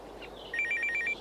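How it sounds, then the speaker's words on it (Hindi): A telephone rings indoors with a faint, quick electronic trill, a single short burst of warbling tones over a quiet background. "तभी उसके कानों में फोन की आवाज पड़ती है।"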